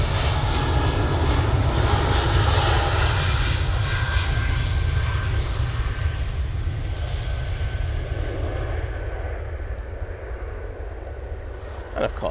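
A loud, steady roar of an Air France Airbus A220 jet taking off for Paris Charles de Gaulle, with a deep rumble that holds throughout and slowly fades toward the end.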